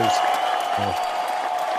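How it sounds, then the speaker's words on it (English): A crowd applauds in a steady wash of clapping that runs the whole time, with a voice talking over it. "The crowd is very appreciative of that"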